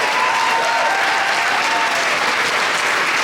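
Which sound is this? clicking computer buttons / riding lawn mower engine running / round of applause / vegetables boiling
round of applause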